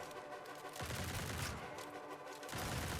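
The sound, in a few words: shotgun gunfire in a grimdark survivor video game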